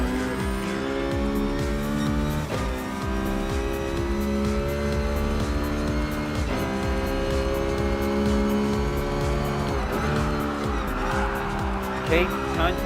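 Gr.4 race cars in Gran Turismo Sport roar close by, their engines revving up and dropping sharply through repeated gear shifts, with a brief tire squeal near the end.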